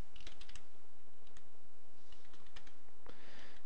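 Keystrokes on a computer keyboard while entering Excel VBA commands, a quick irregular run of close, fairly quiet clicks with a few separate taps and a louder burst near the end.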